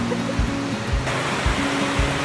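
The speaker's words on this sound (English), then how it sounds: "Have this nice river." A river flowing through Elliðaárdalur, a park in the middle of town, makes a steady, close rushing wash with low thuds and bumps underneath, and no voices are heard.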